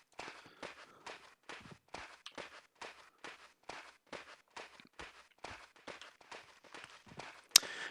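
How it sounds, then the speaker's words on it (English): Small Geonid creatures in EverQuest's Wakening Lands stomp along in steady, rapid footsteps, roughly two per second, crisp and close, with a sharp click near the end. "you can hear their little stomping feet."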